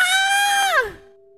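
A woman in an audio drama screams with a sustained, piercing, tonal cry that drops sharply in pitch near the end and trails off, loud and alone.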